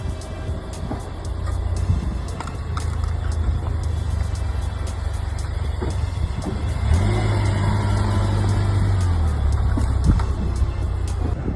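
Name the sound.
2015 Nissan Juke Nismo RS driving over magazines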